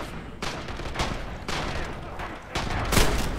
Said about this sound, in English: We got a machine gun. The machine gun nest up there somewhere.